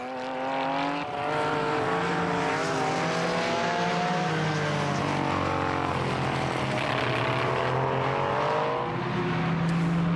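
Classic race cars, including Porsche 906s, AC Cobras and a Ferrari 365 GTB4, roar past on a circuit during the Tour Auto rally. Engines rise and fall in pitch through gear changes, loud and continuous, with several cars overlapping.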